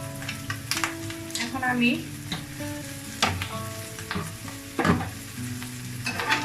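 Cauliflower, potato and carrot sizzle and fry in a pan with eggs for a winter vegetable dish, with steady crackling and occasional stirring scrapes. A voice speaks briefly over the cooking.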